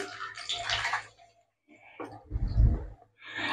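Potato pieces slide into hot oil seasoned with whole spices and bay leaf in a kadai, setting off bursts of loud sizzling and spattering that break off and flare up again, close by with no talking.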